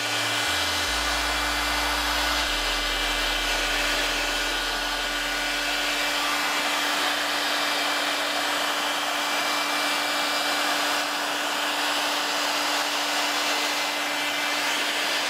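Heat gun blowing hot air over beehive frames to kill wax moth, a loud continuous whooshing roar with a steady whine, holding constant throughout with no talking.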